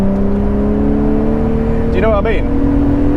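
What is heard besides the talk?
Aston Martin DB7 V12 engine revving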